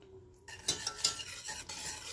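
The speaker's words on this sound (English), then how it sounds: "So right now, I'm gonna whisk it around a bit, let it melt a bit" Heavy cream, butter and salt are whisked in a pan, giving a short close scraping and stirring with light metallic clinks against a soft sizzle.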